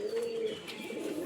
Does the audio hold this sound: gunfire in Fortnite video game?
no